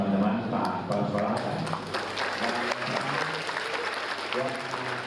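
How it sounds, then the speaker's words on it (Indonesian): Audience applause at an Indonesian government talk show on vocational programs, a dense, continuous patter of clapping from a crowd, with voices mixed in beneath it. "Beri tepuk tangan untuk teman-teman Pak Kepala Sekolah."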